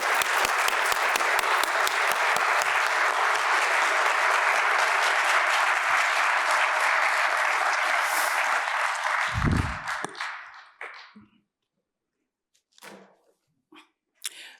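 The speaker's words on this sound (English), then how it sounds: "Please give it up and don't stop clapping until she comes to the stage" A crowd at a Black artist showcase applauds loudly and continuously as a speaker walks to the stage, with dense steady clapping for about ten seconds before it tapers off into a few scattered claps and near silence.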